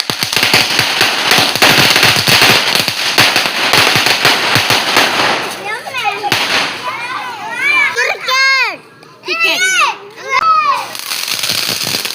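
Rapid crackling bursts of Diwali firecrackers go off close by, followed by children shouting and squealing over a few more sharp pops.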